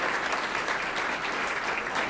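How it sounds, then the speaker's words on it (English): Business community crowd at an annual business appreciation breakfast in Bridgeport applauding, a steady, even roar of many hands clapping at moderate distance. "A round of applause for those folks as well."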